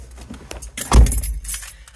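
Keys jangle close by as someone gets into a car, with a loud thump of movement or a door near the middle and brief bright metallic clinks after it, all short and without talking.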